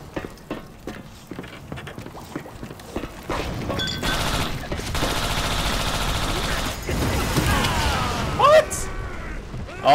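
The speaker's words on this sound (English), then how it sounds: "Oh, the turret killed me." An automated turret in Bioshock 2 multiplayer sprays rapid, sustained gunfire. Loud bursts run continuously through the middle, with scattered shots and game effects before and after.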